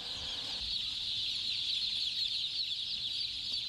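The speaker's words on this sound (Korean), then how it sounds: "병아리들은 여기서 한 달 동안 각각 키워질 예정이다" A dense crowd of chicks fills a large poultry house with a constant high-pitched cheeping chorus that stays even and unbroken throughout.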